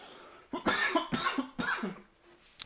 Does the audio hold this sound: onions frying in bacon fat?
no